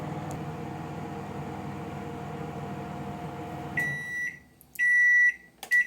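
A microwave oven heating coffee hums steadily, then falls quiet and gives a series of sharp electronic beeps, loud and close, in a short cluster near the end.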